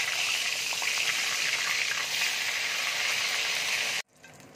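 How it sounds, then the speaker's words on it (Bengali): Steady, loud hissing and crackling of eggplant frying in hot mustard oil, continuous for about four seconds before cutting off abruptly. "এবার বেগুনগুলো আমি তেলের মধ্যে ছেড়ে দিচ্ছি"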